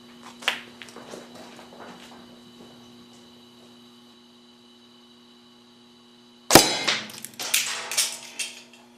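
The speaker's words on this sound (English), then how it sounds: "Let's put a pellet into this lighter and see what happens." An air rifle shot striking a butane lighter: a sharp, loud metallic crack near the end, followed by brief scattered clatter and rattling, after quieter ticks and a steady electrical hum.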